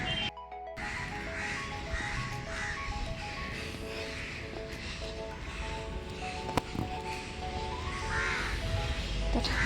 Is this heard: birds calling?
yes